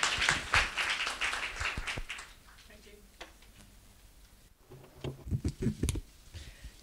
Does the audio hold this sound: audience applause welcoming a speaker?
yes